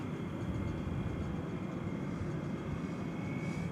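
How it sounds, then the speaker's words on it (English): An American Airlines jet taking off at night at DFW airport, a loud, steady engine roar that holds throughout at close range with no voices. "that flight to Boise is headed out"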